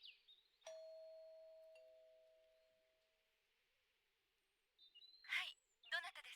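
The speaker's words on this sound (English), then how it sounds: "Ring the doorbell." Doorbell in the Sega Saturn game Policenauts: a single clear chime rings out and slowly fades, followed by brief sharp electronic blips near the end.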